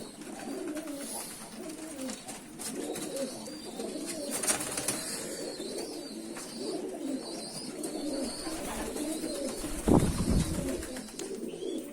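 Domestic pigeons cooing nearby in a soft, continuous murmur of low, rolling coos over faint background noise.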